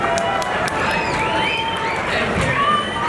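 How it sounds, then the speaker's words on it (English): A school gym audience at a fifth grade band concert cheers and applauds loudly, a dense continuous wash of crowd noise with whoops and shouts throughout. "can you do us a huge round of applause, or give us a huge round of applause for all of your parents that are here tonight?"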